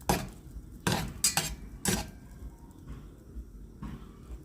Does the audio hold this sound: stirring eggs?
yes